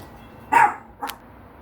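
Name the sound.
dog barking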